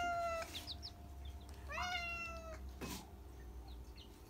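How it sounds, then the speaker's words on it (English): A cat gives a few close meows, one near the start and another in the middle, in a quiet room with faint background noise and a soft knock near the end. "Good girl, Tinky Cat."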